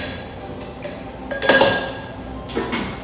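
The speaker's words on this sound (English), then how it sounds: "go ahead and muddle them to release all the juices out of the mint." Mint and ginger muddled in a glass for a mojito: a few close knocks and clinks of the muddler against glass, one louder cluster in the middle and another near the end, with no talking.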